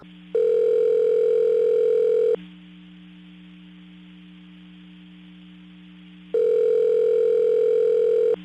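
A phone tone plays when calling a store in the 2006 video game Saints Row: two loud, sustained electronic tone bursts with a quieter steady hum between them, and no speech.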